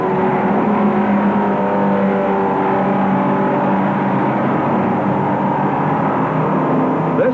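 Dan Gurney's race car at the 1965 Sebring 12 Hour works through the hairpin, a steady loud engine drone with shifting pitch as it slows and pulls away, heard continuously without talk.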